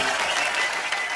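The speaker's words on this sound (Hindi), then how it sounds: "एक बार सभी के लिए जोरदार तालियां हो जाए।" A TV comedy show studio audience claps for film guests, giving a thick, even roar of applause that stays loud and uniform for the whole moment, without speech.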